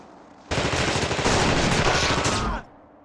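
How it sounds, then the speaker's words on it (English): Shotgun gunfire in The Thing Remastered video game, a loud dense burst of blasts lasting about two seconds before cutting off abruptly into quiet. "He had a shotgun."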